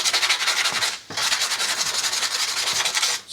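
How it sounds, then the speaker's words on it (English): Fine P180 sandpaper rubs back and forth over the sharp ends of titanium exhaust baffles from a BMW R1200/R1250 GS Akrapovic silencer, a close, steady scratchy rasping in quick repeated strokes with one brief pause. "You got any fine sandpaper? Just to rub around the ends of those."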